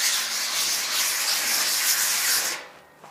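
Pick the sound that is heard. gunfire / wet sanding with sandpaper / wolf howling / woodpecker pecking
wet sanding with sandpaper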